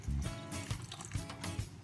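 Water pours into a pot for saltfish fritter batter, a continuous splashing fill with gurgles and slops throughout, close up.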